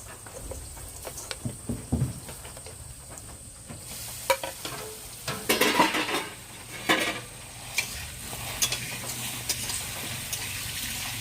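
Potatoes fry in a pan for chicken bhuna khichuri with a faint, continuous sizzle. Water splashes and sharp clatters of rice and lentils being washed break in intermittently.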